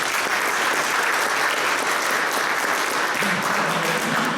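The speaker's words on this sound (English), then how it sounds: "so I appreciate getting a clap for that" An audience at a county comptroller's town hall in Beacon, New York, claps after a presentation on county revenue, producing a dense, steady round of applause from a room of people with no voices over it.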